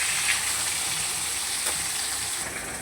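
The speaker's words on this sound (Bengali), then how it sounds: "মাছগুলোকে একটু লাল করে ভেজে নেব।" Pieces of fish being browned in hot oil give a steady, close sizzle that hisses evenly for the whole stretch, with no voices.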